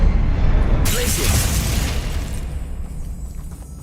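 Glacius ice spell from the Hogwarts Legacy video game lands as a sudden loud burst with a crackling, icy rush that fades slowly over a few seconds, under a steady low game rumble.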